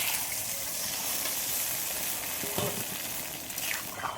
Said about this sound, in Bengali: আলু আর ঝিঙে ভালো করে কষিয়ে নিয়েছি। কত সুন্দর কষাটা হয়েছে। এবার আমি জল দিয়ে দিচ্ছি।